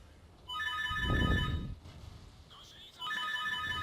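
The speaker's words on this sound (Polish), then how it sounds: "Ktoś do mnie dzwoni" A melodic phone ringtone plays in short bursts, broken by a loud burst of noise, then resumes quietly, with faint background sound between rings.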